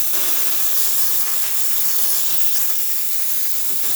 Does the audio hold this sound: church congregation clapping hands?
no